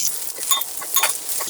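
Onion, garlic, curry leaves, pandan and Maldive fish being stirred in a pan for a pothupala curry, heard as a short run of light scraping clinks over a faint sizzle.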